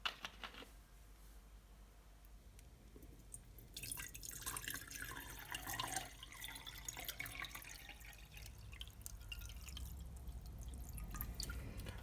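Water is poured into a jar for a simple Kratky-method hydroponic setup with a net pot, starting as faint drips and then becoming a steadier close trickling and splashing that continues to the end.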